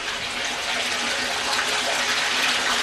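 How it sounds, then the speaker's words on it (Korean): Finished seawater pours into a water tank in a steady, broadband rushing gush, continuous and fairly loud with no pauses and no voices over it. "완성된 바닷물이 물탱크로 옮겨진다."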